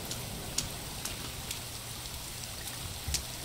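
Rain falls steadily in the survival video game The Forest, a soft, even hiss with a few sharper drop ticks, alone and fairly quiet.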